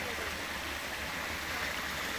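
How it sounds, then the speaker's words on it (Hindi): A mountain stream in a hilly region of Khyber Pakhtunkhwa rushing steadily, a dense, even roar of flowing water heard close and loud with no pauses or voices. "ये पानी चल रहा है यहाँ"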